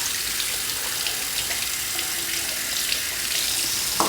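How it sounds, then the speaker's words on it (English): Hot water runs steadily from a bathroom sink tap, making a continuous close hiss and splash with no break. "So now I'm just going to let the hot water run, let it get hot."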